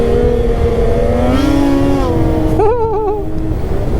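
A Boost Assault truck with a dented exhaust pipe revs hard and loud, its engine note climbing steadily, then wavering and bouncing as the throttle blips, close and dominant throughout.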